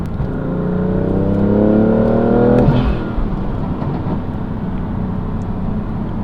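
A BMW F80 M3 drives a mountain road, its engine note climbing steadily under acceleration, then dropping sharply as the revs fall and settling into a steady cruising drone with road and wind noise.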